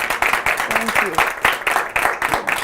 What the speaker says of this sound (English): Give him an applause for doing that.